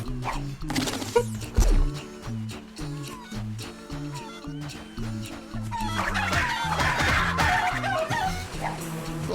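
Chickens cluck in the Crash Twinsanity video game, several short clucks scattered over steady game music, with rustling effects growing busier toward the end.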